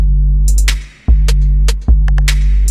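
Snare drum hits from a swish-style kit in Soundtrap, heavy reverb, a few sharp snaps each trailing into a long wash, loud over a steady low hum.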